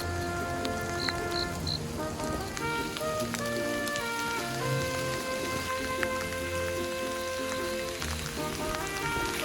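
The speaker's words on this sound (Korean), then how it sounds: "지금 비가 꽤 많이 오고 있어요" Heavy rain pours steadily outdoors along a coastal Olle trail walking route, a dense, continuous hiss of drops on surfaces close around, with scattered clearer drips and no voices.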